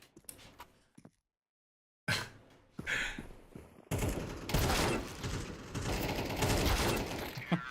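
Bursts of video game gunfire crackle in dense volleys after a short silent gap, with scattered shots early on and sustained rapid firing through the second half; players sigh and murmur faintly underneath.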